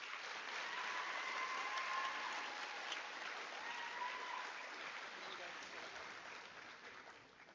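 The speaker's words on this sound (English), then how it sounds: "So we can applaud for these folks." Steady applause from an audience at an eighth grade recognition ceremony, sustained and even throughout before gradually tapering toward the end.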